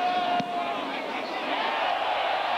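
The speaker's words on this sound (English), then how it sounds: "The crowd loves it." Stadium crowd at a 1984 Cowboys versus Dolphins American football game, a broad steady roar of cheering in the distance, with commentary talking over it.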